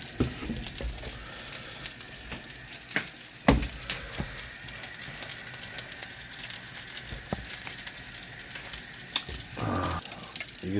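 Pre-cooked pork belly reheats in a hot pan, a steady, continuous crackling sizzle and hiss with scattered pops and a couple of louder clacks, no voices.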